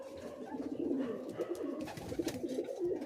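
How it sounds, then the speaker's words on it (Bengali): Male pigeon cooing in soft, repeated low murmurs, close and steady throughout with no talking. "নর পায়রা"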